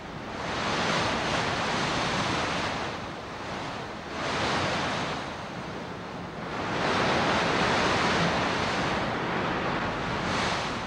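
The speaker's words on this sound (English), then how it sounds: "escapes the blasting winds that blow straight off the Patagonian ice cap" Blasting wind blowing straight off the Patagonian ice cap, a loud, continuous roar that swells and eases in long gusts, with no voices.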